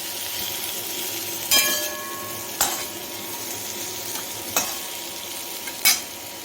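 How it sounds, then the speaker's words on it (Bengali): Potatoes and beans frying in a pan, with a steady background sizzle and four or five sharp metallic spatula clinks and scrapes at irregular intervals, close and fairly loud. "এই আলু আর বিনস ভেজে রাখছি একটু"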